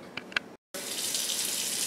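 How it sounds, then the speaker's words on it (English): Tap water pours steadily into a small bowl for a cat's bath, a broad hissing gush that starts after two short clicks and a brief silence. "I'm going to put some water in this little bowl."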